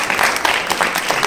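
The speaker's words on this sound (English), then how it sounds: "Give them a nice round of applause" Short burst of audience applause in a library event space, a brisk patter of many hands clapping fairly close and loud.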